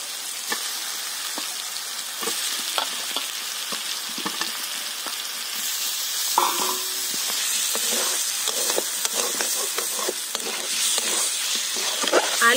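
Boiled potatoes are sautéed with a cooked spice mix in a pan for aloo dum, giving a continuous bright sizzle with frequent scraping and knocking stir strokes close by, and no speech.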